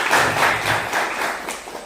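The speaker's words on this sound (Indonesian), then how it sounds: "Oke, tepuk tangan dulu." An audience claps together, a steady close patter of hands in a loud, roomy burst that lasts under two seconds.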